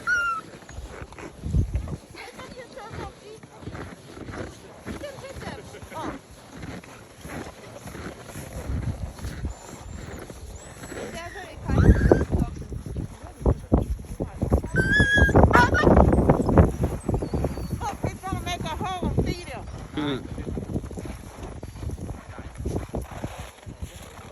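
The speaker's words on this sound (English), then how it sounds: "let's go meet the dog" A dog on Svalbard moves and pants nearby with scuffling and jingling, while people talk excitedly around it and a louder burst of movement rises midway.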